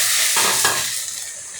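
Whole cardamom and cinnamon hit hot oil for a home-style chicken roast, giving a loud, close crackling sizzle with a quick stirring scrape that fades quickly.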